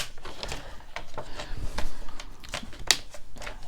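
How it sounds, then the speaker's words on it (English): Scissors snip repeatedly as fabric is cut and trimmed for a flower fabric collage, making sharp close clicks and short crisp cuts in an uneven rhythm. "Let me cut this, trim this off a bit."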